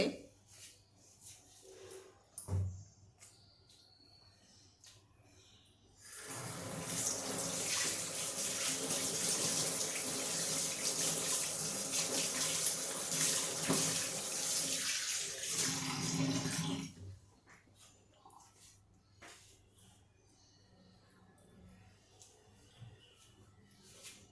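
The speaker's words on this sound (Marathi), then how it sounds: "मी हात धुवून येते" A tap runs loudly into a sink for about eleven seconds while hands are washed in a home kitchen, a dense rushing splash that starts and stops sharply, with quiet handling noises before and after.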